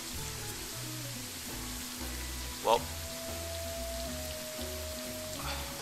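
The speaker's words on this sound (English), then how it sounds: "Why is it always raining everywhere we go?" Rain falls steadily in the video game Pixel Piracy, a soft constant patter under quiet game music, with a brief louder blip partway through.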